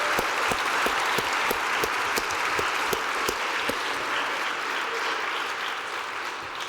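An audience at a procurement keynote event gives steady, sustained applause with crisp individual claps standing out near the start, then tapers slightly toward the end.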